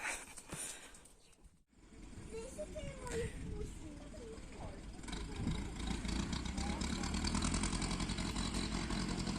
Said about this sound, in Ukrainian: трактор приїхав і починається урання землі